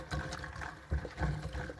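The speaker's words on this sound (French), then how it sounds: "Ce que je vais faire, c'est que je vais les rincer." Water splashing and trickling in short bursts as freshly picked chestnuts are rinsed to wash off soil, fairly faint and close.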